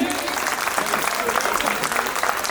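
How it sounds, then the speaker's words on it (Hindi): Audience clapping at a school annual function, a loud, dense round of applause filling the room with some crowd noise mixed in. "एक बार और तालियां बजाइए।"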